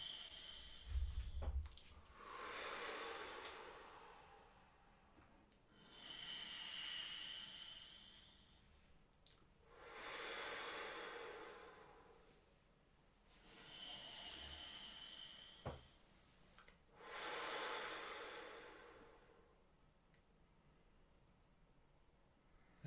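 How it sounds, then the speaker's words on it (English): Five slow, deep breaths during a quiet guided meditation, each a soft, drawn-out airy inhale or exhale separated by brief still pauses, faint and close. "taking 3 gentle, slow, deep breaths"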